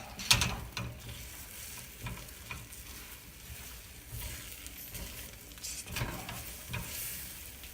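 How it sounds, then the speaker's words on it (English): Eggs are stirred and scrambled in a hot pan, giving a soft steady sizzle with scraping and tapping strokes from the utensil, close by and without talk. "you're going to start the scrambling process. You're just basically going to move around your eggs."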